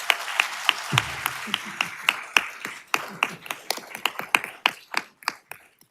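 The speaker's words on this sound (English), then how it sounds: "can we all give her a big, big round of applause?" A small audience at a Franchise Tax Board gathering claps for a departing colleague, with sparse, uneven individual claps that start thin, thicken slightly and stay close and moderately quiet throughout.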